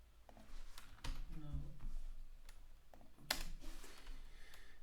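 Keys clack in short irregular bursts as someone types on a computer keyboard, quiet and close, with a few sharper clicks standing out and the tapping pausing between bursts.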